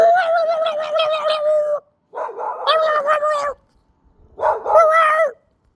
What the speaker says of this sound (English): Here's a dog outside.